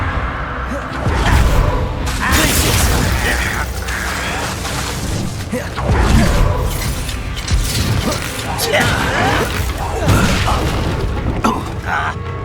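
The Confringo fire spell is cast during Hogwarts Legacy gameplay, setting off repeated booming blasts with crackling, clattering bursts that swell and fade over steady background game noise.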